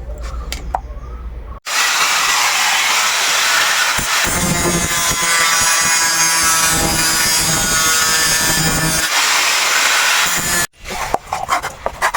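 A coconut shell being rubbed and shaped by hand into a round form for a salt jar gives a steady, loud abrasive scraping that runs almost continuously, with short clicks and handling knocks before and after.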